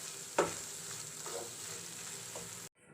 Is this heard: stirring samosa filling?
yes